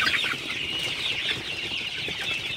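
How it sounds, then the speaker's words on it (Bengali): A flock of 37-day-old Sonali super hybrid chickens on a farm clucks continuously in a dense, overlapping chorus, steady and fairly close. "আমার সোনালী সুপার হাইব্রিড মুরগির বয়স 37 দিন"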